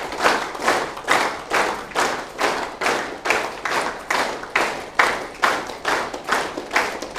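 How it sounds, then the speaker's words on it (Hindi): An audience claps in a steady unison rhythm, about two claps per second, at a close and fairly loud level. The beat stays even throughout and does not clearly slow or fade within this stretch. "धीरे धीरे अपनी तालियों को बंद कर दीजिए"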